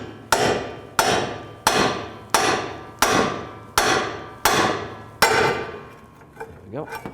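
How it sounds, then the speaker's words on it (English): Seven sharp, evenly spaced metal-on-metal hammer blows strike a pickle fork to split a ball joint on the lower control arm of a 2011–2014 Chrysler 200, each ringing briefly before the next, followed by softer clanks. "And just hit it with a hammer."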